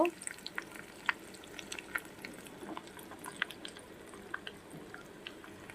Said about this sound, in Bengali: দেখতেই পাচ্ছ খুব সুন্দর ভাজা হচ্ছে